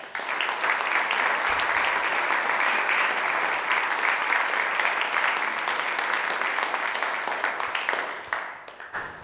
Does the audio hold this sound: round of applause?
yes